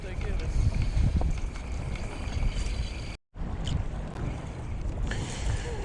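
Strong wind of about 20 knots blows over a fishing boat on grass flats. It makes a loud, continuous buffeting rumble with gusty surges and microphone wind noise, and it cuts out for a moment partway through.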